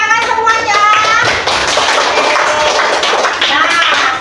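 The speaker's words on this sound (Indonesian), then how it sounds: "Tepuk tangan semuanya." Students in a classroom clap for a group's presentation, a fast, uneven patter of hands that runs continuously, with children's voices mixed in.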